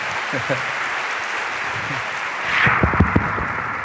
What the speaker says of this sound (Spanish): yo quiero que con un fuerte aplauso recibamos a este conferenciante